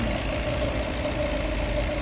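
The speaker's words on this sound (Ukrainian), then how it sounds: "Двигунчик працює ідеально." A 2021 Volkswagen Crafter van's engine idles with a steady low hum, even and close by, with a faint mid-pitched tone riding over the rumble and no voices.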